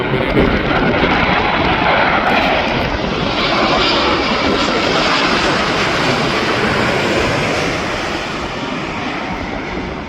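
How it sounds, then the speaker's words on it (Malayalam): A loud, steady jet engine roar fills the whole stretch, broad and rushing, easing slightly toward the end as the aircraft passes over. "അതൊരു ജെറ്റ് ഫ്ലൈറ്റാണ്"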